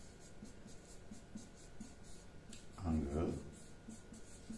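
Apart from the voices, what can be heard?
writing on paper while solving a geometry question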